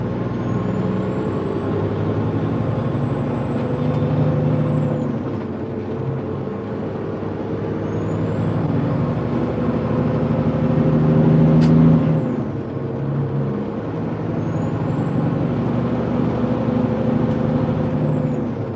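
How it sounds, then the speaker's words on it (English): Heavy truck pulling back onto the road and climbing through the gears, a steady loud engine drone rising in pitch and dropping at each of several shifts, with an air brake hiss partway through. "get up to speed here, get back on the road, go through the gears"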